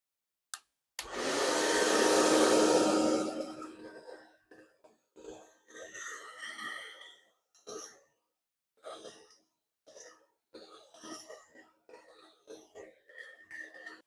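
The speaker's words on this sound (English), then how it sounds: "we need some intense hot air to apply to that tweeter." A hair dryer blasts hot air loudly for a few seconds onto a KRK Rokit 5 speaker's tweeter, then cuts off, followed by scattered bumps, breaths and short noises.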